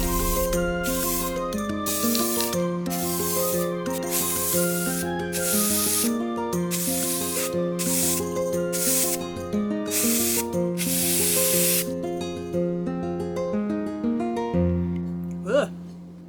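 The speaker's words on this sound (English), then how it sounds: "Get it spray painted black." Short hissing bursts of spray paint, repeated in a steady rhythm, coat a deer skull black while gentle background music with melodic notes plays underneath.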